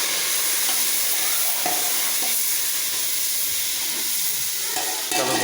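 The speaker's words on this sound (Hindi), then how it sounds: "प्याज को अच्छी तरह ब्राउन करने के लिए हम थोड़ा सा इसमें यखनी डालेंगे" Onions browning in a pan with a splash of stock sizzle and hiss loudly and continuously, with stirring scrapes and a fresh burst of sizzling near the end.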